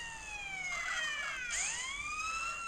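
A police car siren in GTA San Andreas wails in rising and falling sweeps, with two overlapping tones crossing midway, moderately loud over a low background rumble.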